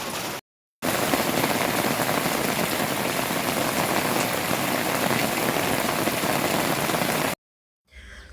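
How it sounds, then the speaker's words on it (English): Steady light rain falling outdoors in the Kenyan countryside, a dense, even patter of drops filling the scene with no voices, cut off briefly at the start and near the end. "But when it is just a little rain like today,"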